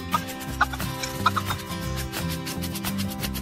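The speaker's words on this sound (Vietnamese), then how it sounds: "Ủa gà đẹp quá" Chickens cluck in short, scattered bursts over a busy, rhythmic background hum, several close calls standing out above the steady din.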